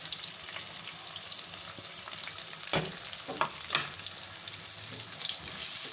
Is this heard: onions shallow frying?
yes